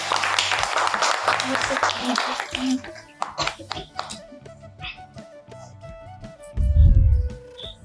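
Audience applause at a game show prize giving bursts loud and dense for nearly three seconds, then fades into scattered claps and a few chimes while people talk, with a thump later.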